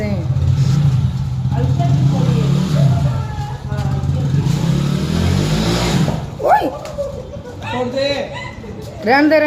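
A motorbike engine revs and drones steadily during a riding lesson, loud and close for most of the stretch. People talk over it, and voices grow more prominent toward the end.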